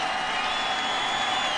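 Sold-out baseball crowd at Busch Stadium on its feet, a steady, dense roar of many voices filling the whole moment without letup.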